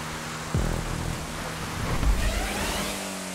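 A large armored truck engine in GTA5 Online revs and surges up, a short growling burst with a thump near the start and a second swell, loud and close with no talk.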